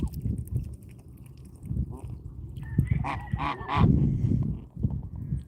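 A pet goose honks a few times in loud, nasal bursts close by, over a low rumbling, chewing-like background noise, with no talking.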